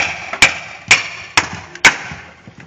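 A forged knife chops into hard, rigid wood in four sharp, loud strikes about half a second apart, each a crisp woody thwack with a short ringing tail, up close without any talk.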